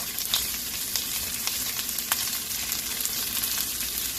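Bacon frying in a pan as its fat renders out, a bright continuous sizzle up close with a few faint ticks and pops, no talking.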